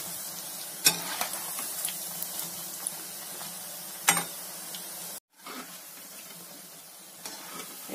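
Cauliflower bhajji fritters frying in hot oil, a steady soft sizzle with faint crackles throughout, sharp clatters near one and four seconds, and a brief drop-out just past five seconds before the frying resumes, with no talking.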